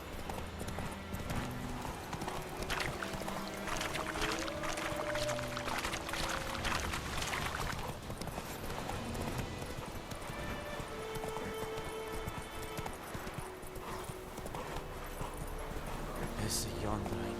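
Roach, a horse in The Witcher 3 game, clip-clops along in a steady hoof rhythm through the whole stretch, with speech and other game sounds layered over it.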